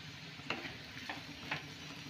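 Vegetable peels with cumin frying in a covered pan, a faint steady sizzle with three soft clicks of the lid or spoon spaced evenly.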